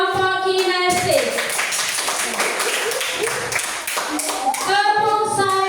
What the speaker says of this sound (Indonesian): Coba kasih tepuk tangan untuk kelompok kinestetik.